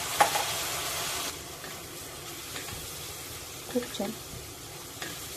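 Dried prawns fry in a spice masala for a Maharashtrian dry prawn dish, a soft steady sizzle with occasional stirring scrapes and knocks while someone speaks briefly.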